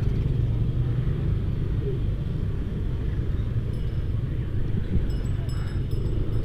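Traffic stands jammed at the Muning crossroads during a parade, heard as a dense, low rumble of idling cars and motorcycles. The engine drone is steady, with faint high tones over it.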